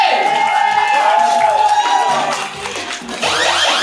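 An audience at an all-styles dance battle final cheers and applauds for the finalists: steady, loud crowd noise with whoops and shouts, briefly dipping near the end before surging back.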